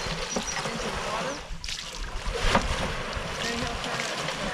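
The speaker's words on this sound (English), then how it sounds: "Gives it a few turns back. That's flushing the dirt out." A trommel at Crater of Diamonds State Park turning and flushing dirt out with stream water: continuous splashing and sloshing with a brief dip and a louder surge, under a voice.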